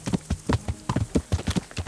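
A horse's hooves clip-clop in a steady, even trot during riding in the medieval video game Kingdom Come: Deliverance. The beats are clear and moderately loud, with no other sound.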